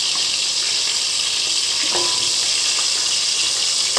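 Dried red chillies and cashews frying in hot oil for a restaurant-style chicken gravy curry, a steady loud sizzle with faint stirring clinks.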